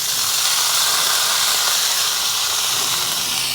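Bottle gourd leaves dropped into a hot pan with fried yardlong beans sizzle loudly and steadily, a dense close-up hiss of frying that continues without pause.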